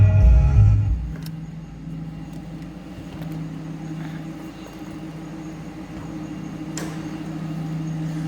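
A 2005 Cadillac XLR V8 engine idles with a steady low rumble and hum, close and continuous, after a brief louder thump at the start.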